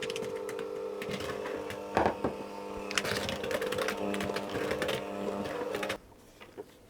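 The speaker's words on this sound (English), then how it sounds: "just mix that on a low speed until it comes together" An electric mixer runs on low speed through cake batter for a French butter cake with apricots, giving a steady motor hum with rattling bursts of the whisks before it suddenly cuts off near the end.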